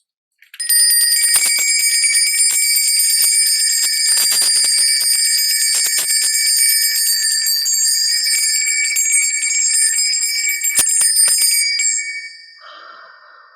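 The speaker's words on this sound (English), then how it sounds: "bells. They dispel negative energy." Bright metallic bells ring continuously for about eleven seconds during a tarot deck cleansing, loud, sustained shimmering tones with steady shaking, then fade away near the end.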